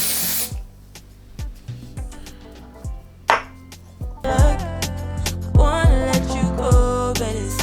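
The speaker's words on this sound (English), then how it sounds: "Lace Melt Spray." Quick bursts of lace melt spray hiss close by during a wig install, mixed with clicks and handling noises, and music plays in the background.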